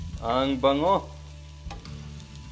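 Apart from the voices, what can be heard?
shrimp being sautéed (gisa) in a pan, sizzling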